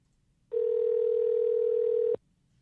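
A telephone tone sounds on a call line after the connection drops, a single steady loud hum lasting about a second and a half that cuts off abruptly, with quiet before and after.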